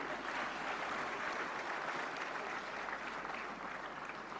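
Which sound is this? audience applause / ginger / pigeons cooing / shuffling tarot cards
audience applause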